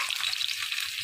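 Garlic fries in a pan for an arvi dish, a dense, steady, hissing sizzle that is loud and close and never lets up.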